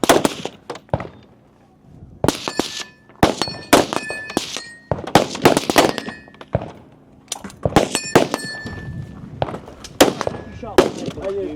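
Sharp gunshots ring out at a regional shooting match, each followed by a ringing clang off steel targets, in an irregular rapid string of loud close shots with brief pauses.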